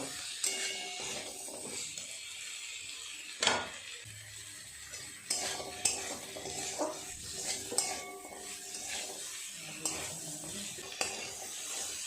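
Cooked rajma (kidney beans) stirred with spices in a pan, with intermittent scraping and clinking of a spoon against the metal and a faint sizzle beneath, close and fairly quiet, without talk.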